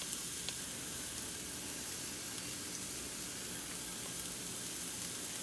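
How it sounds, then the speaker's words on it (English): Ground beef sizzling in avocado oil in a pan, a steady faint frying hiss that runs unbroken with no talk. "to caramelize and cook in the avocado oil and the ground beef"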